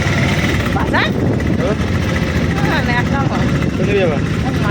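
A motorbike engine drones steadily while riding, with rushing wind noise, a voice speaking over the continuous close engine hum.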